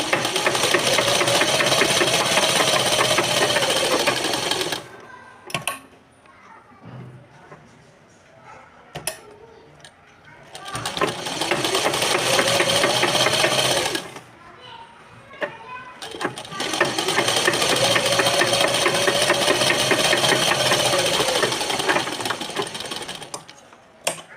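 A sewing machine stitches blouse fabric in three long, loud runs of rapid whirring, with quiet pauses between them that hold soft clicks and handling of the cloth.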